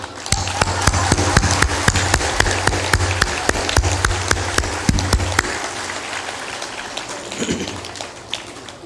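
An audience at a religious gathering in Bihar claps in a rhythmic, evenly paced beat of sharp, loud claps, then the clapping stops and a quieter murmur remains.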